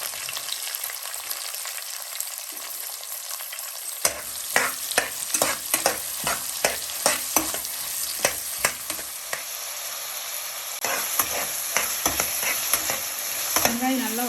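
Half a kilo of long-sliced onions fry in oil for prawn biryani, a steady close sizzle broken by a run of sharp, rhythmic spoon-scraping clatters against the pan.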